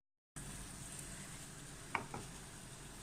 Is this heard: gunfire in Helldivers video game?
no